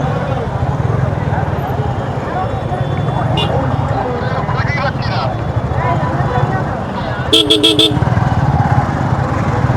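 Motorcycle rolling into a parking area at an outdoor tree and environment fair, a close steady engine rumble under ongoing talk, with a brief burst of horn toots near the end.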